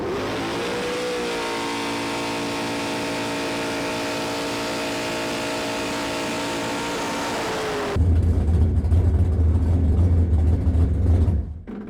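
A boat with a big-block Chevy engine and dual carburetors runs with a steady whining hum, then shifts to a heavier, deeper roar near the end before cutting off abruptly.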